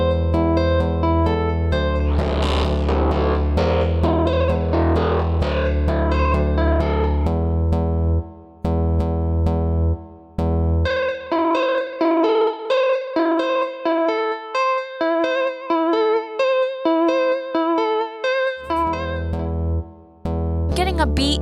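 A character theme song beat: a synth melody over layered drums with a looped break, first dense and sustained, then a choppier, sparser section of short rhythmic hits, with no voices.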